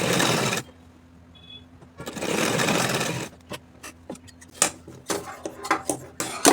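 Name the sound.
sewing machine stitching a fabric strip on a kurti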